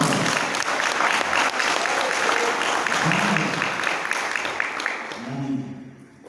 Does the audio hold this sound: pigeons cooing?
no